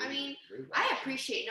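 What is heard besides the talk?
dog barking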